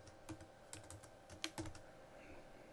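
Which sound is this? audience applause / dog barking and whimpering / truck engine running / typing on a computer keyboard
typing on a computer keyboard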